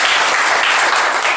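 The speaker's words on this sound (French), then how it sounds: "Je vous prie de les applaudir, mesdames et messieurs" Loud, dense applause from an audience at a women's network event, continuous clapping filling the whole stretch at close range.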